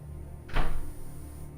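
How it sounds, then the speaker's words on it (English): A bathroom door swings shut in a Game of Thrones adventure game, a single short thud close by, with a low steady hum beneath it. "Close the bathroom door, not my door."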